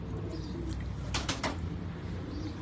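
Pigeons on a rooftop coo softly in a short burst of low, throaty calls, close by and quiet, with no talk over them.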